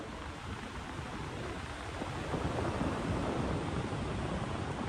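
Strong wind rushes steadily past a paramotor pilot gliding with the motor switched off, a dense roar that swells slightly louder midway and continues without pause.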